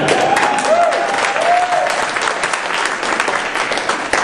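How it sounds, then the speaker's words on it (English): An audience applauds at a Green Party presidential candidates forum, a loud, sustained crowd clapping that carries steadily throughout, with a few faint voices mixed in. "I'd even give up some time for you to applaud David Cobb, Pat LaMarche, Peter Camejo, and"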